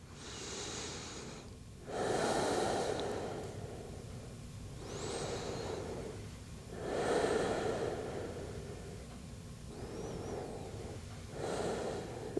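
Slow, deep yoga breaths during a gentle flow session: long airy inhales and exhales alternating steadily over several cycles, close and soft, with no talking.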